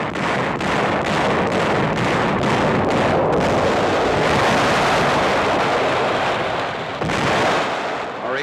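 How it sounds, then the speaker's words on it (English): Naval and landing-craft bombardment of Peleliu island in the Palau Group during World War II, a dense, continuous roar of distant shelling and fire with heavy rumbling, loud and unbroken throughout. "The shelling of the island continues, supplemented by fire from landing craft."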